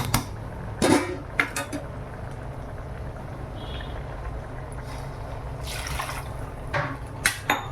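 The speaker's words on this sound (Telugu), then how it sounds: "4 గ్లాసుల బియ్యానికి 5 గ్లాసుల వాటర్ పోసుకోవాలి." Water pours steadily into measured rice for chicken biryani, a continuous liquid fill with occasional clinks of pots and utensils nearby.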